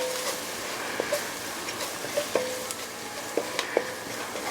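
Flour cooks in hot fat in a pan for chicken fried steak gravy, giving a low steady sizzle broken by a few clicks and scrapes of stirring, close and without talk.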